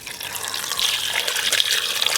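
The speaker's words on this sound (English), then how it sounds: "Now add a bit of water." Water splashes and gushes into a cooking pot holding oxtail meat seasoned with salt and pepper for kare kare, a short steady pour that grows slightly louder toward the end.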